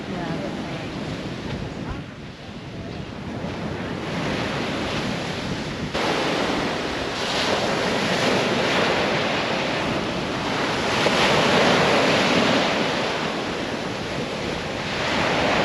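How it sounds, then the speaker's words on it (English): Ocean surf and wind roar steadily at Puka Beach on Boracay, a shell-and-sand beach, with loud broadband wash and gusting wind noise on the microphone throughout. "we have arrived to Puka Beach now"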